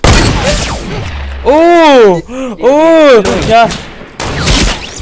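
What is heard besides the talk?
gunfire from other players in Fortnite, a video game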